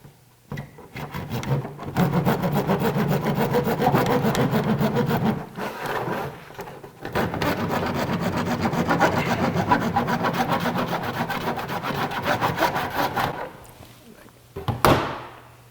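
A small wood piece for a 1/24 scale model of Kleine Scheidegg is trimmed off with rapid, close, rasping sawing strokes in two long bursts, with a brief pause between them and a sharp knock at the end.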